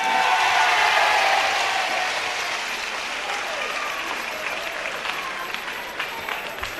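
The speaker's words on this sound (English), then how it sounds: "there's the crowd, really part of this packed crowd here at Nottingham, really enjoying this team match so far" A packed crowd at a Nottingham wrestling team match applauds loudly, the clapping fading slightly into sustained applause and crowd noise throughout.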